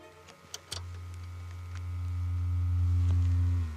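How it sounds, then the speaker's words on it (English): A few soft clicks, then a steady low sine-wave tone from a signal generator swells from a loudspeaker and holds, with a faint hiss of generator noise alongside. "I've got here a generator to make a sine wave, some noise"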